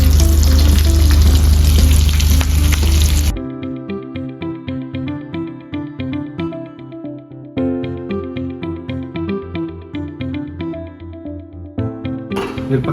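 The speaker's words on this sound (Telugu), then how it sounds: "మిరపకాయలు ఈ విధంగా వేగినాయి కదా" Green chillies fry in hot oil for chicken pakora, a loud dense sizzle at the start that cuts off abruptly, followed by a steady rhythmic metallic stirring pattern with softer bubbling, no voices.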